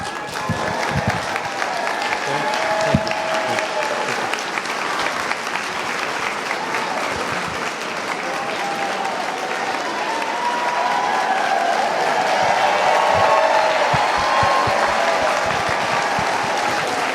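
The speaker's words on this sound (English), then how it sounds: "Loud applause for the young lady as she walks up to the congressman and gives some cards to him." Loud, sustained applause rolls through a crowded town hall meeting with Congressman LaMalfa in Nevada County as a young girl hands him cards; thick clapping continues for many seconds, swelling toward the end, with scattered voices and cheers mixed in.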